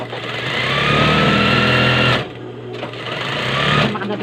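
A sewing machine runs in close, loud bursts while stitching a spaghetti-strap blouse, a steady whirring rattle that pauses briefly and then resumes.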